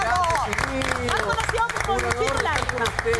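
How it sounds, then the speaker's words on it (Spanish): Studio audience applause in a Chilean television panel show, a dense crackling wash running steadily beneath a host's continuous talk. "Un aplauso."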